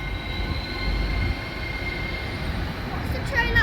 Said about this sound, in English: So I think they're coupling it up to another one.